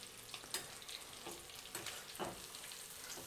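Chicken pakoda pieces fry in hot groundnut oil with a steady close sizzle, crackling and foaming bubbles, occasional louder pops and stirring sounds, and no talking.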